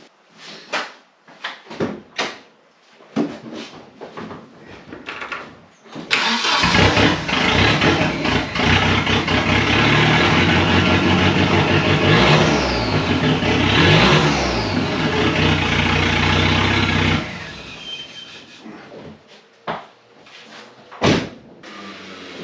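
A Volvo 940 Turbo engine with a stainless steel exhaust and only a catalytic converter starts up and revs hard for about ten seconds, loud and close, with clatter and handling noises before and after.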